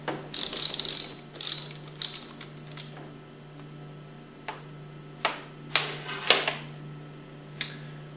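Socket wrench ratcheting on the plunger nuts of a Hypro 2400 Series plunger pump, close and fairly quiet, in several short bursts of quick metallic clicks separated by pauses, over a steady low hum.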